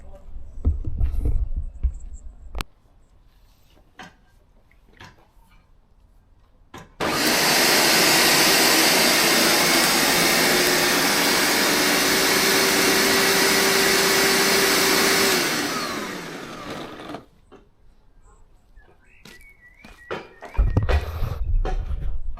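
A lawn scarifier on its highest setting tearing into garden turf, a loud steady mechanical whirr running for about ten seconds, framed by quieter handling thumps and background noise before and after.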